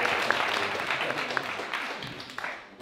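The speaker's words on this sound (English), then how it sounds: "we'd love to give a big round of applause and welcome to Jim Zelkowski." An audience applauds to welcome a speaker, a moderate spread of clapping hands that tapers off toward the end, with a voice faintly underneath.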